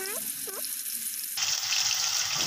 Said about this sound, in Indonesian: Kita tumis sampai harum ya ininya. Bumbunya.